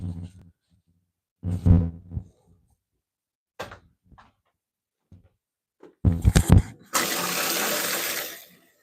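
Water runs from a tap in a steady, loud rush near the end, following scattered clunks, a short burst of splashing and faint movement in an indoor setting.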